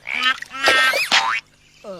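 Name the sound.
voice imitating a frog croak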